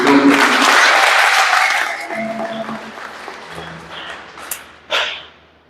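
An audience at a Swahili church wedding ceremony claps: dense applause fills the first two seconds, then thins out and fades under scattered faint sounds and a brief late noise.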